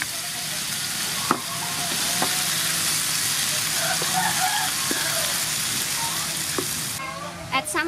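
Potato fries in hot soybean oil with chopped garlic, a loud, constant sizzle broken by sharp clinks and scrapes of a utensil stirring in the pan.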